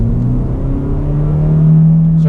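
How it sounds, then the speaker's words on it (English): A 2019 Honda Insight hybrid accelerates under throttle, its engine note rising steadily in pitch and loudness from inside the cabin over a couple of seconds. "I'm gonna go ahead and get on the throttle."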